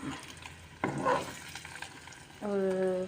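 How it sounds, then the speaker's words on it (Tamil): Spice-masala-coated eggs fry in a pan with a steady crackling sizzle, a brief stir near the start and a brighter, louder sizzle toward the end, heard up close with no talking. "இப்போ வந்து நாங்கள் முட்டையை பொரிச்சிட்டோம்"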